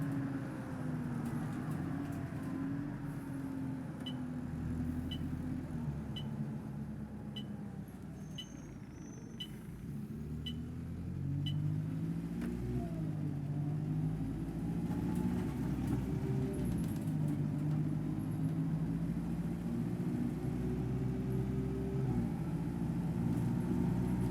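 A London Citybus C200 bus engine drives steadily on the Smarden route 314 in OMSI 2, a continuous low rumble rising and falling with speed, with faint periodic ticking like an indicator and no talk.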